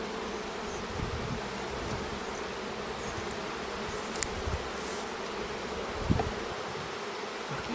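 Honeybees drone in a dense, continuous buzz from an open hive in spring, close and steady, with a few faint knocks and no speech; the colony may be queenless.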